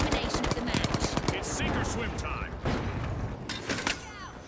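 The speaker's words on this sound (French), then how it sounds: "le mec il a posé une tourelle au plafond, t'as vu? Il me tire dessus." Rapid automatic gunfire from a ceiling-mounted turret in the video game The Finals, dense bursts of shots throughout with game effects, while a player talks over it.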